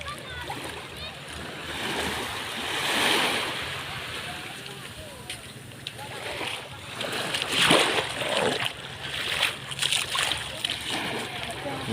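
Sea waves breaking and splashing along a rocky shore at a swimming spot, a continuous washing roar with surging, louder splashes near the end, close by, with people's voices mixed in.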